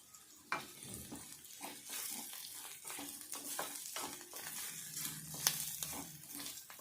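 Green chilies and a pinch of chili powder frying in a pan of oil for egg curry, with a soft steady sizzle, close by, and occasional scrapes of stirring and a sharp clink of utensil against the pan.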